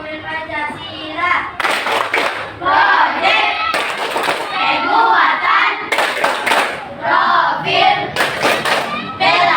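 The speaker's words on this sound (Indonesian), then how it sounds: "Tepuk profil Pancasila." A classroom of children performs a rhythmic Pancasila profile clapping chant. Chanted voices alternate with sharp, loud bursts of unison clapping that recur every couple of seconds, close and lively.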